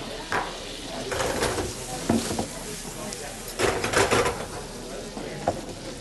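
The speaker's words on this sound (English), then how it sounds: "Give it a bit of a stir" Icing sugar is stirred into blueberries for a blueberry and lemon clafoutis. A spoon scrapes and swishes through the fruit in quiet, irregular strokes, close by, with some background noise and low talk.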